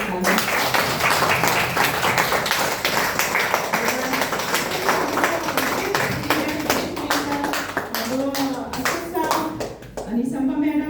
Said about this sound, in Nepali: उहाँको लागि एकचोटि जोरदार ताली।